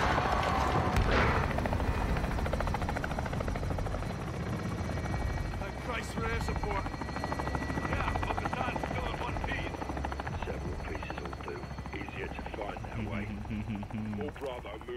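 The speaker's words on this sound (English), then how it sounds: "It's that Warzone helicopter." In-game helicopter from the Modern Warfare 2 campaign, a loud continuous rotor thump and engine drone that persists throughout, with voices talking over it.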